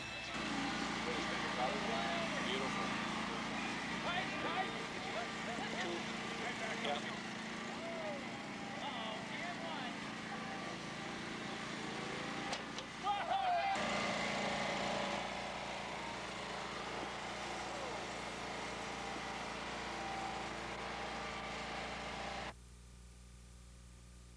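A lawn mower engine runs steadily throughout at moderate distance, a continuous drone that cuts out near the end, with voices talking over it.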